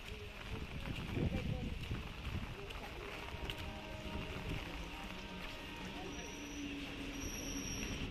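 A suburban train rolls into a Chennai station during heavy rain and storm, its steady rumble and rattle of wagons running throughout with faint squeals, while voices murmur nearby.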